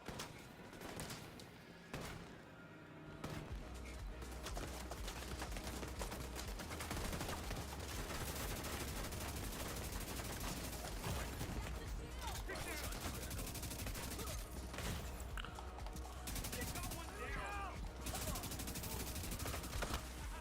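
Automated turrets in The Division 2 video game firing at the player, a relentless, loud, continuous stream of rapid shots with a heavy low rumble underneath and a voice talking over the barrage.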